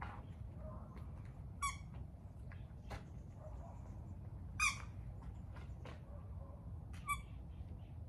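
A dog squeezing a squeaky toy indoors, giving a few short, sharp, faint squeaks spaced several seconds apart over a quiet background hum.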